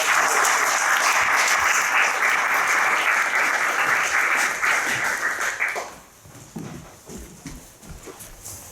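A school gathering for grades 10–12 breaks into a loud, sustained round of applause that cuts off sharply near the six-second mark, leaving quieter room noise and scattered sounds.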